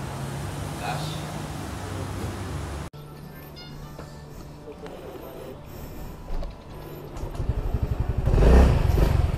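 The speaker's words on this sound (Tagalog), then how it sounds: "Motor ni Kenoy" A motorcycle engine idles and then revs up louder near the end, with people talking over the noise.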